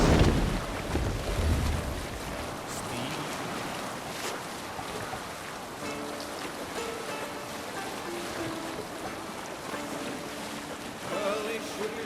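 A sailing ship on open sea in Assassin's Creed Valhalla, with steady wind and water rushing against the hull under a faint melodic singing voice, continuous and fairly loud throughout.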